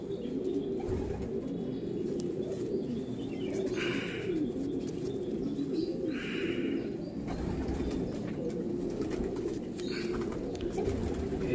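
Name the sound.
Golden Eyes pigeons cooing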